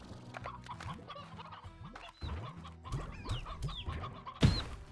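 Video game chickens in Slime Rancher cluck and squawk repeatedly in a busy, overlapping chorus, with a louder burst near the end.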